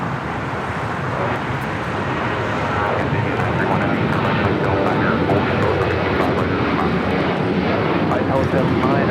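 A loud airliner roars continuously at LAX during takeoff or landing, its engine noise steady and growing slightly, with faint voices mixed beneath the roar.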